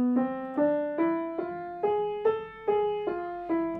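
A plucked or picked instrument climbs an A harmonic minor scale one note at a time, eight evenly spaced notes rising steadily, clear and close with no voices.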